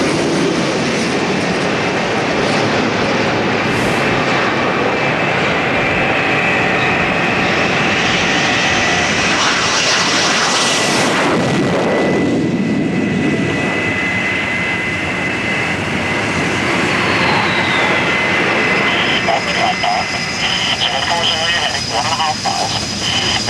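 A navy jet approaches a carrier deck and rolls off it again, its engine a loud, continuous roar that swells and shifts in pitch, while a voice talks over it.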